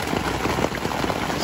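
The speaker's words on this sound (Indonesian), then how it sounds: "ternyata hujan turun dengan asiknya" Steady rain falls on a campsite during a bike camping trip, a dense continuous patter of drops hitting surfaces close by, with no voices.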